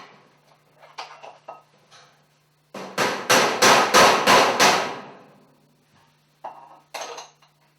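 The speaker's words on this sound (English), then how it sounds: "and then tap it in place with a hammer" A burst of about seven quick, ringing hammer taps on thin sheet metal ductwork, loud and close, with a few softer knocks before and after.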